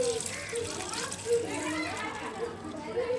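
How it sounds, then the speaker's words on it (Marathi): Water is poured from a vessel onto a potted hibiscus plant, a soft continuous splash under someone talking, with children's voices in the background. "आता मी पाणी ओतत आहे त्याला"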